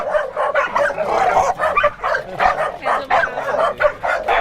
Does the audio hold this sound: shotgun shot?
no